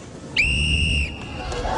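A referee's whistle starts a dodgeball match in the Extreme Arena of a televised kids' competition: one sharp, shrill blast lasting under a second, then a low crowd murmur.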